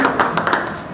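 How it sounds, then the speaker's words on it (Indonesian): An audience claps briefly as two guests, Mas Aji and Mbak Santi, walk onstage at a university event; the burst is dense and fairly loud, with a few sharper claps standing out over under a second. "tepuk tangan dulu dong"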